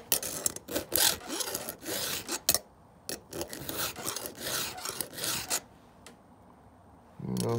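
A power saw chain is sharpened by hand with a file, producing close, rhythmic rasping strokes in quick bursts, with a short quiet pause before a final few strokes.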